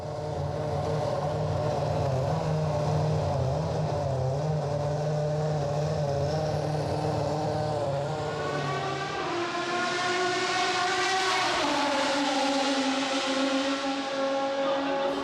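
Formula 1 race car engine screaming at high revs, a continuous loud howl that climbs through gears, briefly dips, then rises again to a higher pitched shriek, with no voices.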